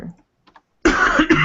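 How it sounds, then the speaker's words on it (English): Coughing from a person during a live board game playthrough, a short loud burst near the mic after a brief quiet stretch, with two close rough bursts. "I apologize to anyone who's been distracted by my coughing."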